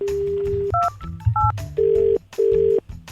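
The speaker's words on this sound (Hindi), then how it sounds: "फोन मिलाया जा रहा है" A telephone number is dialed, giving a rapid run of touch-tone beeps: short paired tones followed by two longer, louder steady tones, close and clear, with no talking.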